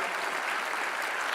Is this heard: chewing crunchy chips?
no